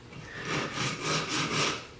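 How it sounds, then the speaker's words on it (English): A coarse 80 to 100 grit sanding block scrubs a wooden chess king piece in a steady rhythm of about four back-and-forth strokes, close and fairly quiet, with no talking. "I can clean that up with my sanding block"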